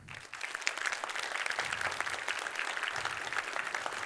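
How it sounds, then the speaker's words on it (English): Audience applause fills a conference hall after a speaker is introduced for a C++ talk, a steady, even patter of many hands clapping at moderate distance and fairly soft, with no voices over it. "Please give a warm applause to Adi Shavit."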